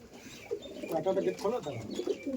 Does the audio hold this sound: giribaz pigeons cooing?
yes